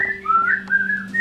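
A single whistler carries a sliding, wavering melody for music being recorded, heard up close over a steady low hum.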